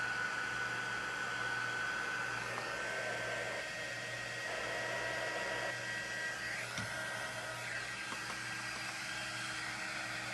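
A hair dryer blows steadily on a craft project, a loud continuous whooshing roar that holds level for the whole stretch, close by and with no talk.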